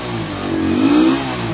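A 2020 Kawasaki Rouser NS 125fi motorcycle engine revs hard toward redline. Its loud, buzzy tone climbs and swells to a peak near the middle, then eases back slightly, heard close up with no talking.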